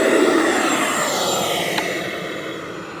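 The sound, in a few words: giant RC model jet engine during takeoff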